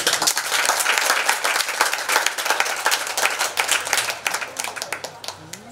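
A church convention congregation of about 255 people in Korhogo claps and applauds steadily, with dense overlapping claps that stay loud for several seconds before thinning slightly toward the end.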